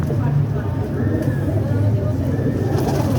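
Pigeons coo continuously in a loud, close rooftop flock, with voices talking now and then over the steady low murmur.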